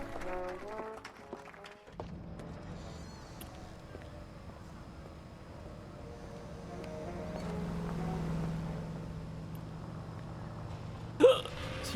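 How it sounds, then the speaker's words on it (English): A single sharp hiccup from a person cuts through steady low wind- and water-like background noise of the LA Noire game, standing out briefly and loud near the end. "Excuse me, hiccups."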